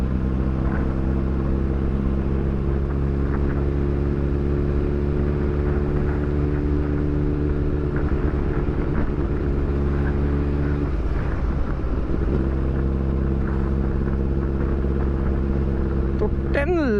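A Suzuki GSX-R1000R sportbike riding at speed in sixth gear gives a steady, loud engine drone with a constant pitch and a slight waver midway, heard up close from the rider's position.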